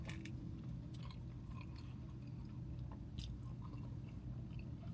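Quiet, close chewing of Sonic Groovy Fries dipped in Groovy sauce, with soft crunches and moist squishing bites repeating over a low steady background, no talking.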